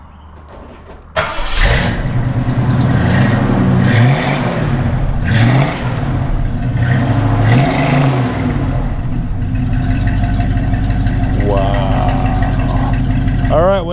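A 1967 Mustang Shelby V8 fires up from a cold start after a quiet moment, then barks through several sharp throttle blips before settling into a loud, lumpy, fast idle up close.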